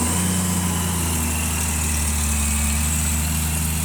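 A 2000 Honda Goldwing GL1500 SE motorcycle engine idles steadily after starting, giving a loud, close, smooth low hum with a constant rumble and no pauses or voices.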